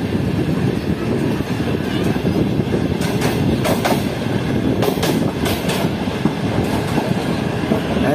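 A train rolls through a crowded railway junction station in Pakistan, its wheels clattering steadily with sharp metallic squeals cutting in and out, close and loud.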